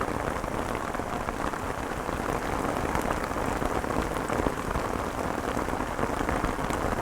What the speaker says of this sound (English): You might hear the pounding of the rain on my jacket above us.